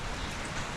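Heavy rain pouring down during a camping trip in Mauban, Quezon, a dense continuous hiss close to the microphone with no voices.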